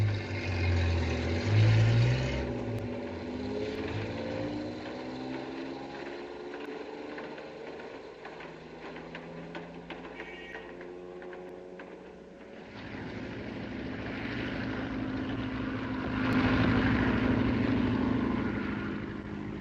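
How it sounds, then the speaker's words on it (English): Propeller airplane flying overhead in an old Hitchcock film scene, a steady droning engine hum with wavering pitch that swells, fades slightly, then grows loud again as it passes, with no talking. "It's a signal for that plane to land."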